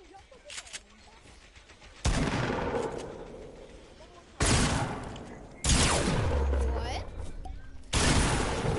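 Loud bursts of gunfire in Fortnite, four sharp volleys spaced a couple of seconds apart, each ringing out with a sustained rattling tail, while players talk quietly in the background.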